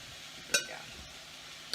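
A spoon stirs taco chicken filling in a frying pan, a single brief metallic scrape and clink against the pan over a faint background sizzle, close and quiet.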